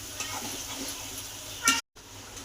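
Paste of coconut, green chili, garlic and coriander frying in hot oil for a Marathi brinjal dish, a steady soft sizzle throughout with a louder hiss just before a brief silent gap.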